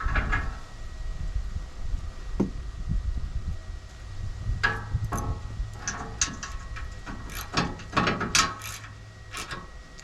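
Rail being tightened on truck camper entry steps of an Eagle Cap 1165, close metallic ratcheting and clicking in irregular bursts with a few clanks against the frame.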